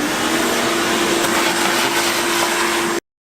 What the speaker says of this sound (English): The easiest way I found to do this is actually just use a leaf blower.